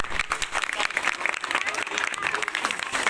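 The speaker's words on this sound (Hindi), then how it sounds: "बच्चे इस बात के लिए ताली बजाए अपने प्रधान जी।" Children applauding at a Republic Day school gathering in a village, a dense sustained burst of clapping from a group, steady and fairly loud throughout.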